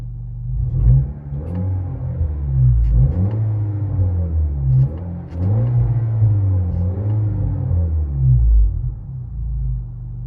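A 2019 Honda Accord 2.0 turbo with straight-piped dual exhaust, heard from inside the cabin as a loud, continuous low droning rumble that rises and falls with throttle, with a few sharper revving surges and no talking.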